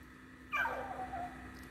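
A dog lets out a single short, descending whimper up close against a quiet background hum.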